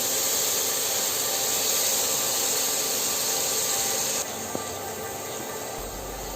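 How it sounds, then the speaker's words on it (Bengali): Spices being fried and stirred in a hot pan for a bottle gourd curry: a steady, loud sizzling hiss that runs continuously, easing slightly partway through, with a single light clink near the end and no talking. "আমি মশলাগুলো ভালোভাবে একটু ভুনা করে নেব।"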